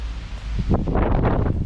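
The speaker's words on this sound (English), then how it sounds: "It's windy." Wind buffets the microphone outdoors in a steady low rumble with rustling gusts, loud and close, no talking.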